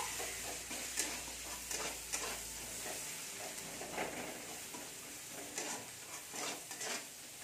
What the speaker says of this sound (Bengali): পেঁয়াজটাকে আমি একটু ভাজতে থাকবো।